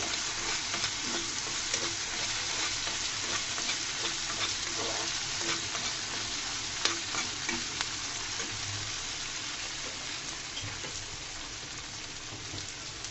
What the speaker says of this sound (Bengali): আলুটা ভাজতে ভাজতে এখানে আমি দিয়ে দেবো 1/2 চামচ মতো পাঁচফোড়ন, একটা সুন্দর ফ্লেভারের জন্য।